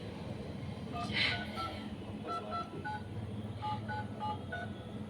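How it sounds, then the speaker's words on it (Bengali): A series of short touch-tone beeps as a phone number is dialed, quiet and close, over a low background rumble. "দাঁড়াও, বাবাকে ফোনটা করে দিই"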